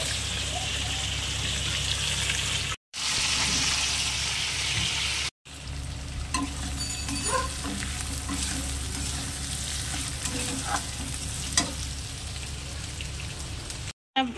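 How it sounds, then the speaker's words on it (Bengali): Fish fries in a big wok in a home kitchen cooking for eight, with a continuous loud sizzle and crackle of hot oil, brief cuts in the sound, and occasional clinks and scraping from stirring. "কপি নামিয়ে মাছ ভাজা বসিয়ে দিলাম।"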